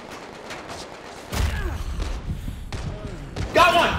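Shotgun blasts in the VR game Medal of Honor: Above & Beyond, a couple of sharp booming shots with clattering game effects between them, while people talk over the action.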